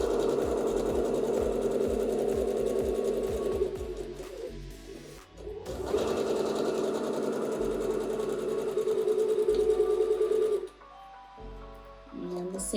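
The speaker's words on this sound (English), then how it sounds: "we're just going to do a 1/4 inch seam." A sewing machine runs in steady stitching bursts while sewing a quarter-inch seam on a fabric face mask, loud and close, with short pauses near the middle and at the end and faint bird calls in the background.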